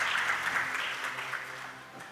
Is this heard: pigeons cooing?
no